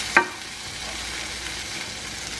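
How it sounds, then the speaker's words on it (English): Garden vegetables and eggs saute in a pan, a faint steady sizzle opened by one brief scrape or clink of stirring, close and without talking. "The heat from the saute is enough to scramble the eggs or to make the omelet. Just mix the ingredients through."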